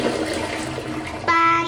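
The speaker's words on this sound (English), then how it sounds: "The toilet!" A household toilet flushes with a sudden loud rush of water near the end, after a stretch of muffled indoor noise.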